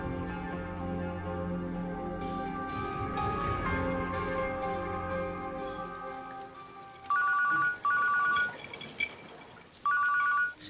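A telephone rings in short repeated electronic bursts, following a stretch of tonal music with sustained notes; no one speaks over the rings.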